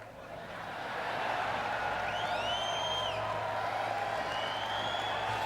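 Audience at a Hall of Fame induction speech claps steadily, the applause rising during the first second and then holding as a broad, even wash with faint scattered whoops.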